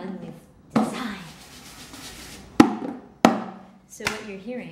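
A Cuban guataca, a hoe-blade hand percussion instrument, is struck four times at uneven intervals. Each sharp, close, loud hit leaves a ringing metallic decay.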